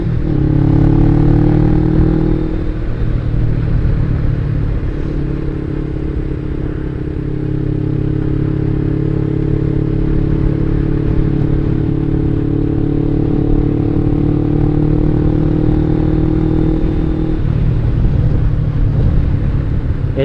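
A Suzuki SG500 motorcycle engine while riding, a loud, steady droning thrum that shifts pitch early and late in the ride, mixed with heavy wind buffeting on the microphone.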